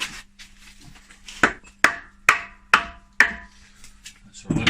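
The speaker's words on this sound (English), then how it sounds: "So let's give him a couple of taps with a wooden mallet." Wooden mallet tapping on the cylinder head of a BMW E36 stroker engine to free it from its dowels: five sharp, close knocks spaced about half a second apart over a faint steady hum.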